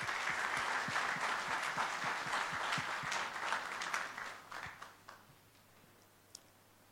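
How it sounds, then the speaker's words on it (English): A Zimbabwean audience of young people applauds a woman being welcomed at a meeting, loud continuous clapping that gradually thins and fades to a few scattered claps near the end. "A round of applause for her."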